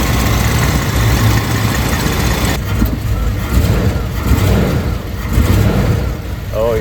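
A 1987 Chrysler Fifth Avenue engine idling just after startup, a loud, steady low rumble close by with people talking over it throughout.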